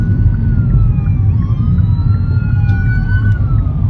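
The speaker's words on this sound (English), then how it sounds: "But it was a ambulance." An ambulance siren passes on a highway, its wailing tone rising and falling above a loud, steady rumble of road and engine noise.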